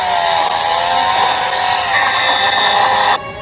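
A loud, steady engine drone with a buzzing, whining tone, like a chainsaw running near, holding for about three seconds before cutting off abruptly.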